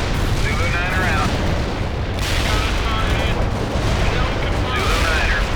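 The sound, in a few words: artillery shells firing and exploding in World in Conflict video game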